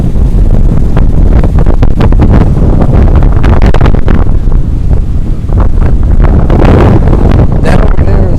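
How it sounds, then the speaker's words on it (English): Strong wind buffets the microphone on a shoreline at Treasure Island near Johns Pass, a loud continuous roar with gusting surges throughout and a faint hint of waves beneath. "It's just really windy."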